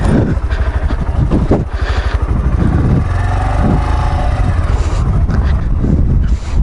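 Strong wind near the ocean on a trail ride with dual-sport motorbikes, loud gusty buffeting against the microphone that rumbles and roars throughout.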